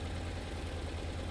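Honda Integra S motorcycle engine idling on its center stand, a steady low, even rumble that holds constant throughout at close range with no talk.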